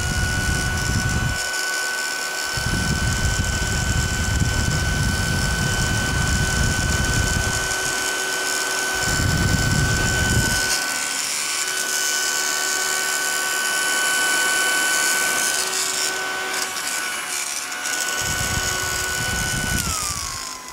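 A Holmes Twin Pocket battery-powered mini-fan whirs loudly with a high steady whine, its low rumble cutting in and out in bursts as it starts and stops.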